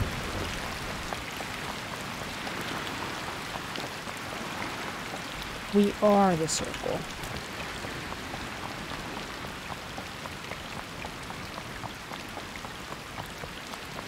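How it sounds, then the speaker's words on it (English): Steady rain falls across the map in the battle royale game Ring of Elysium, a constant soft hiss of drops running the whole time under brief talk from players. "Rain."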